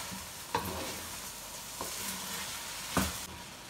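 Biryani spices with Maggi seasoning are stirred in a pot of rice, a soft continuous sizzle broken by three sharp scraping stir strokes against the pot, close and fairly quiet.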